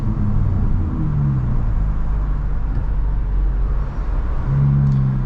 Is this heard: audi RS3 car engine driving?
yes